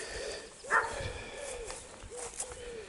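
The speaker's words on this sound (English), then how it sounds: "Someone's dog is shouting that there's people about." A neighbour's dog barking outdoors in a garden, a few short yapping barks and whines at a distance, fairly faint against the background.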